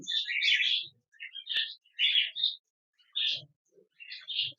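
Young cockatiels chirping close by in short bursts of bright, scratchy calls separated by brief pauses; no talking.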